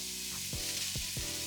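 Loud, steady sizzling of cabbage frying in a hot pan, with a few stirring scrapes cutting through the hiss.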